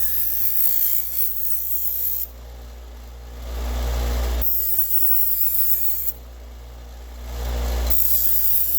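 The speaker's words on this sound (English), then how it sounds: "Let's get this over here on the bench grinder. Let's clean up these edges" Rusty metal edges ground on a bench grinder, the steady motor hum swelling into two long passes of harsh grinding with a quieter pause between, close and moderately loud.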